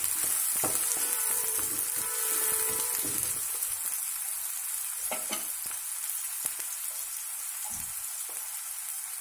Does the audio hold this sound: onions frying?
yes